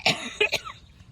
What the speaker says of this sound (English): Excuse the cough, I'm kind of sick.